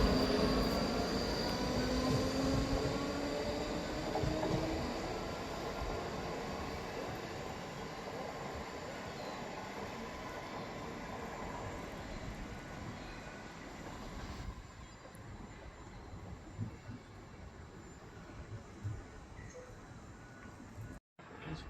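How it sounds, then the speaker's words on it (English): A ScotRail Class 334 electric unit pulls away, its broad rumbling rail noise loud at first and easing gradually as it recedes, with a faint hum lingering at the end. "Departing out now is the 1449 ScotRail service from Edinburgh Waverley to Helensburgh Central"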